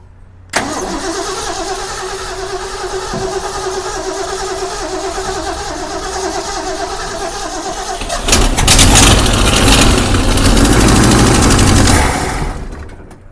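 A 1966 Ford Mustang engine cranks and catches, then runs at a steady, loud idle before the revs rise into a rougher, fuller roar near the end.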